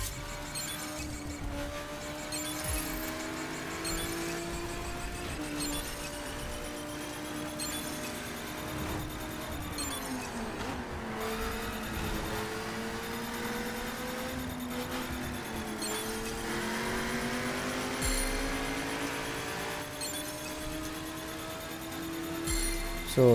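A motorcycle engine races steadily in The Crew Wild Run, its pitch rising and falling through gear changes over a continuous droning background.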